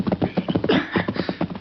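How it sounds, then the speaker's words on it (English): A horse being reined up at a cabin clearing: rapid, close clip-clop of hooves with a whinny partway through, loud and busy over the short stretch, with a faint voice mixed in. "He reined up his horse and dismounted."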